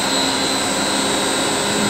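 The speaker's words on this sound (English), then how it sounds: "So these are little, little jockey pumps," Small jockey pumps run in a fire suppression pump room, giving a loud, constant mechanical whine and roar with a steady high tone and no change across the short stretch.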